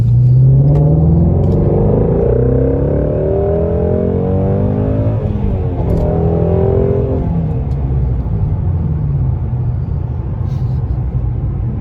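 A Ford Shelby GT350 pulls hard under full acceleration, its engine roaring loud and close with rising pitch through gear changes, with a brief dip mid-pull before climbing again.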